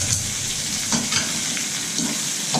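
Curry with tomato and onion being stirred as it fries in a pan: a steady close sizzle with several brief scraping strokes of the spoon, no voices.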